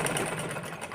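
Close, steady whirring of a sewing machine running along a kurti seam on a collared kurti, continuous for a brief moment.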